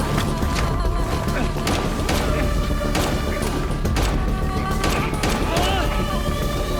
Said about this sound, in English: are there no other police officers nearby hearing all this gunshot happening